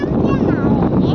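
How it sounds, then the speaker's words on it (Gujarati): Strong wind gusting over the seashore at Rozi port in Jamnagar, roaring steadily into the microphone as buffeting wind noise, with a voice speaking faintly underneath. "એટલો પવન છે ને કે હવે તો અવાજ સરખો નહીં આવતો હોય"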